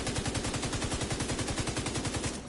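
Sustained automatic LMG fire in The Division 2, a rapid, even stream of loud close shots with no pauses, cutting off just at the end.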